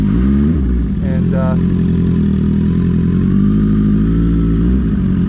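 A 2008 Suzuki GSX-R 1000 with a 50-tooth rear sprocket is at an eighth-mile drag strip. Its engine gives a loud, close, steady drone, with a brief rise in revs early on.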